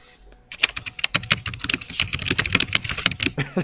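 Typing on a desktop computer keyboard, a fast, dense run of sharp key clicks that starts after a brief quiet moment and continues steadily and close by, with no talk.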